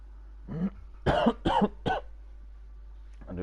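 A person coughs several times in quick succession, four harsh bursts with brief gaps, fairly close and otherwise quiet.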